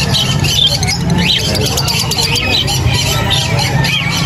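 Lovebirds, parakeets and other caged birds at a pet market in Angeles City give frequent sharp, overlapping squawks and chirps close by, mixed in with people talking.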